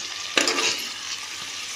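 Sliced onions and potatoes sizzling in a pan, a close steady hiss with a couple of sharp scraping stirs of a spatula, heard alone without voices.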